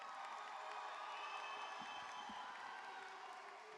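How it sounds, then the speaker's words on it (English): A graduation crowd applauds and cheers for the 2025 graduates at a high school ceremony. The sound is a distant, quiet wash of clapping with scattered whoops and crowd murmur that stays even throughout. "Let's give our 2025 graduates another round of applause."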